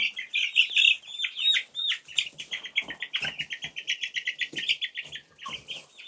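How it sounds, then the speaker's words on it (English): Black Australorp hens clucking and chattering close by in a backyard flock, a busy, overlapping run of rhythmic clucks and squawks with some wing flutters. "right here we have a black Australorp."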